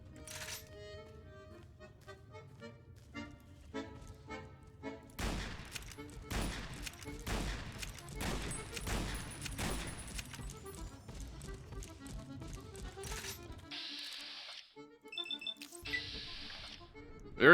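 Rapid gunshots in the video game Fallout: New Vegas crack out in a dense volley of sharp bangs over several seconds, followed by game sound effects and quieter mechanical clicks.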